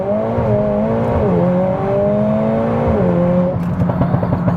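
A Mercedes-AMG A45 S engine revs and pulls away from a standstill in a launch run, its loud, close tone climbing in pitch, dipping at gear changes and climbing again, ending in rough clattering.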